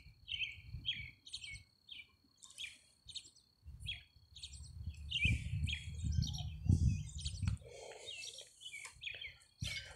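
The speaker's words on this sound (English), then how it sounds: "do you hear the birds?" Birds chirp and tweet repeatedly in quick bursts, fairly close, over a low rumbling background.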